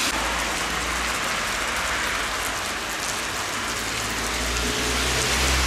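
Heavy rain pours down in a steady, dense hiss, with a low rumble underneath and no break in the downpour.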